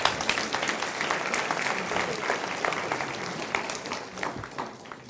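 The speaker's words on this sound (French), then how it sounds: "Oui, on peut vous applaudir." Audience applause at a Sciences Po Bordeaux talk with the Banque de France governor, steady clapping from a hall crowd sustained for several seconds and tapering slightly at the end, with no voices over it.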